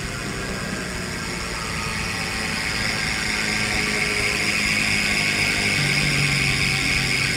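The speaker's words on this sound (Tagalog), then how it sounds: "ito yung tunog ng Speed 1 Rocket ratchet hubs kapag naka free wheel" A Speed 1 Rocket magnetic ratchet hub, with a sealed-bearing cassette freehub body on a rigid mountain bike, freewheels close by as a steady, dense buzzing whir that holds even and unbroken for several seconds with no voices.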